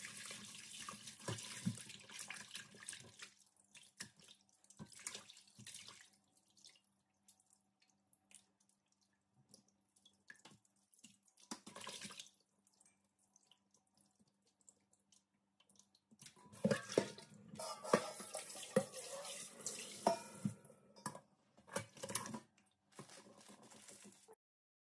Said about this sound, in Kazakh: соңынан шайып, тазалап жуып отырамын